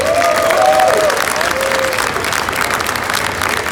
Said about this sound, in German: Kriegen wir mal einen Applaus